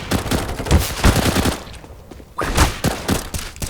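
Loud, close bursts of automatic gunfire in the video game Counter-Strike, fired in two clusters with a short lull between them.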